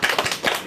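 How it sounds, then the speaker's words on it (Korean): Audience clapping in a graduate business school lecture room, a short burst of separate hand claps with a quick uneven rhythm, fairly close and not very loud. "우리 서로를 위해서 박수 한번 치고 갈까요?"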